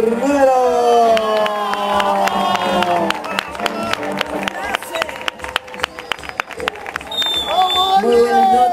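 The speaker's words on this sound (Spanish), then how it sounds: "Señoras, señores, entonces que se vengan los aplausos" A live evening concert crowd at the Jueves de Comadre show at El Monumento breaks into scattered, brisk clapping. Loud voices carry over the clapping near the start and again at the end.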